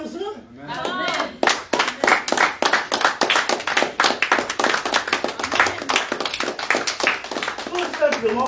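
A church congregation claps during a French-language sermon, many hands striking in a loose, sustained rhythmic patter close by, with voices mixed in.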